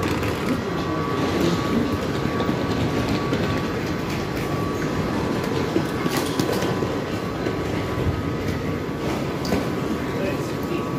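London Underground train heading to Heathrow, a loud, continuous rumble and rattle of carriages with wheel clatter, while people talk over it.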